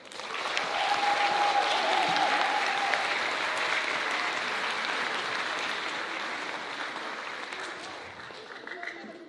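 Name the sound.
applause for the performers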